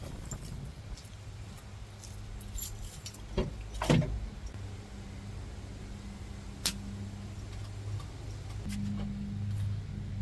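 An Acura RSX with its keys handled near the ignition, giving a short metallic jingle and a couple of faint clicks over a low steady hum, with no engine catching.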